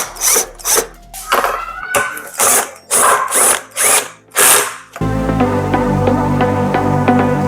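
A power drill drives bolts into a Bajaj Pulsar motorcycle during a headlight install, sounding in about seven loud, close whirring bursts that rise and cut off, followed by a steady continuous motor whine.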